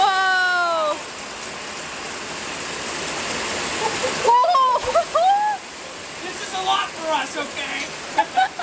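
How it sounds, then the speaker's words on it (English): California hail patters down in a steady broad hiss that drops off and then returns, while people talk over it with excited voices. "Oh, it's hailing."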